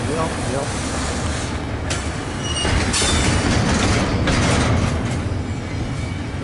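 A train rounding a curve a little too fast at track speed during a snowstorm, its wheels letting out thin, high squeals over a steady, loud rolling rumble, with one short spoken word.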